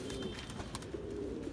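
Gajra pigeons coo softly in a short burst of low rounded calls, close by and steady, with no talk over them.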